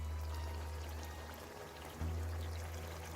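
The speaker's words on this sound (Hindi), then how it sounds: "इसमें हम बिल्कुल थोड़ा सा पानी ऐड करेंगे, तकरीबन 2-3 टेबल स्पून पानी ऐड करेंगे।" Water is poured into a chicken curry in a home kitchen, with a brief steady pour and trickle over a low background hum, close by and moderately loud, with no talking.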